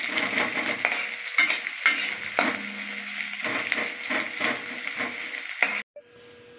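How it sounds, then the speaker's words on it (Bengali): Onions fry in a pan, browned to a reddish colour, with a soft sizzle under frequent scraping and clinking of a spoon stirring them, ending abruptly in near quiet. "এই যে পেঁয়াজগুলো লাল লাল করে ভেজে নিলাম"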